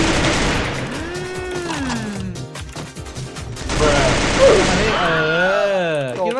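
Rapid gunfire bursts from the Free Fire video game crackle mostly in the middle, under excited voices talking throughout.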